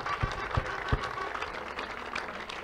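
Crowd clapping at an evangelistic crusade in Imo State, a dense spread of hand claps with a few loud, close individual claps standing out early, continuing steadily throughout.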